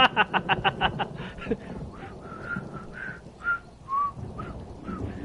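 A character in Elder Scrolls Online whistles a short tune in quick repeated notes, then slower sustained whistled tones, fairly close over soft background game ambience.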